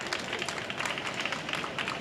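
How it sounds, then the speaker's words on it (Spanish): An audience at a women-in-tech session during the 4YFN event at MWC applauds Eva, a steady wash of many hands clapping at moderate distance, fairly soft and even throughout. "un aplauso para Eva."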